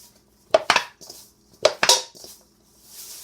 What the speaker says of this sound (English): Yes, my pan makes a lot of noise.